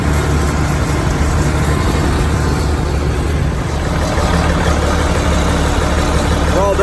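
A tractor pulls a wheel rake across a hay field, its engine a steady, loud, close drone with continuous low rumble and no pauses.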